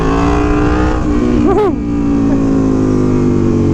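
An Aprilia Tuono V4 Factory motorcycle engine roars loud and close throughout a wheelie, a sustained high-revving drone with a brief rise and dip in pitch midway.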